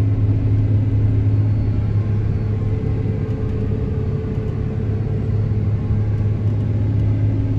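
A CASE combine harvester roading on a narrow road during wheat harvest gives a steady, loud engine rumble with a deep drone, heard from inside the cab with no talk.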